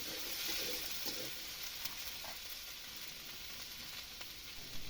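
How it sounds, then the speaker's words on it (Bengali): Vegetables sautéing in hot oil after soybeans have been fried, a steady hissing sizzle with soft stirring scrapes, close and continuous, with no voices. "এখন এই যে সবজিগুলো দিয়ে দিবে, সবজিগুলো ভালো করে কষিয়ে নিবে"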